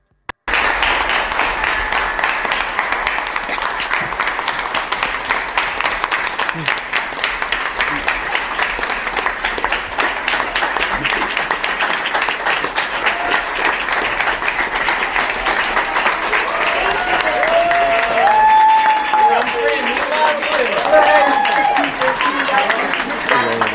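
An audience gives sustained applause for outgoing Attorney General Merrick Garland, a dense, even wash of clapping that holds loud throughout, with a faint voice briefly audible near the end.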